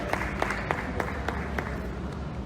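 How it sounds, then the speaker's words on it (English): Moderate audience applause for Elizabeth, a Benue State House of Assembly candidate, at Social Media Week in Lagos, with a few distinct claps poking out of a steady clapping texture over a low background hum. "Please a round of applause for her."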